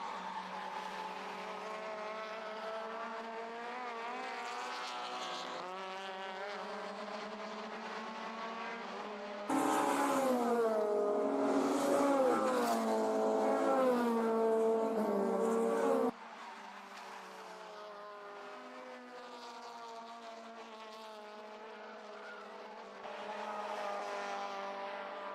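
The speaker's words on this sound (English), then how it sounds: "plenty of Bank Holiday Monday traffic on the circuit here, with some 25, 26 cars entered across all three classes" Honda racing cars, including Civic EGs, lap the Oulton Park circuit during a Bank Holiday championship race, producing a continuous high-revving engine drone that swells and shifts in pitch as cars pass, loud and steady with no voices.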